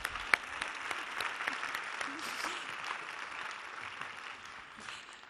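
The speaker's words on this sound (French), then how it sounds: "vous pouvez applaudir encore une dernière fois tous les gagnants" Audience at the EPFL Alumni gala applauding the ten winners one last time, a moderate, fairly distant patter of clapping with some voices mixed in.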